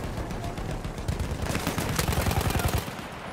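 Rapid machine gun fire in the World War I shooter Battlefield 1, a dense loud burst of repeated shots over a chaotic battlefield din, with the rhythm tightening and growing louder in the second half.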